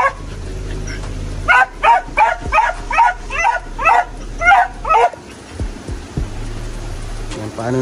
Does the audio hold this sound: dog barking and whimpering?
yes